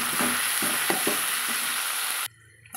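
Tomatoes sautéing in a hot pan for Tamil tomato kuzhambu, a steady close sizzle with a few soft stirring scrapes, cutting off abruptly near the end.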